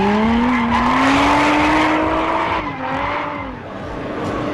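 A drift car holds a long, loud, continuous tire squeal with a steady high whine that wavers and dips partway through, engine roar running underneath, close and without pause.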